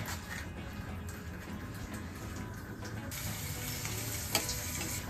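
Papad frying in hot oil in a kadai, a continuous close, bright sizzle and crackle with no talking.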